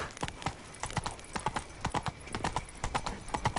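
Horse hooves gallop in a steady clip-clop rhythm in the video game Witcher 3, with quick repeated thuds close and fairly loud throughout, joined now and then by a faint snort.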